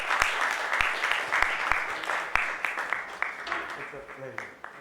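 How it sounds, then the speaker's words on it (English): Audience applause breaks out at a supply chain summit panel, a dense wash of many hands clapping with sharp individual claps standing out, steady and fairly loud, tapering slightly toward the end. "Let's give him a huge, huge round of applause."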